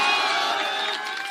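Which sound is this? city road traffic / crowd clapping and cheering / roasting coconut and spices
crowd clapping and cheering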